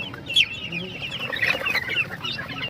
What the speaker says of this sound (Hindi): बड़े मुर्गियाँ भी है